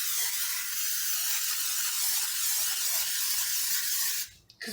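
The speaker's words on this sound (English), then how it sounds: "And then I'm going to spray it." Cooking spray hisses steadily from a can onto a baking pan lined with a silicone mat, one continuous close spray lasting several seconds before stopping abruptly.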